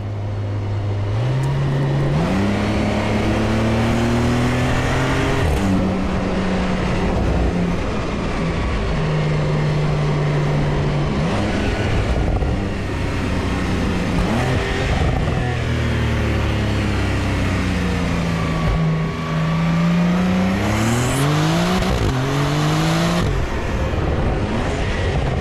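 A 992-generation Porsche 911 Carrera with the PDK automatic gearbox, driven hard: the loud engine drone climbs and falls through a series of quick gear changes for the whole stretch, with no voices.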